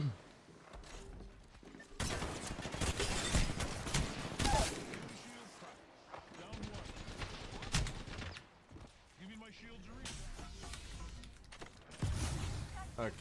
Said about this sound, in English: Is that a shotgun bolt?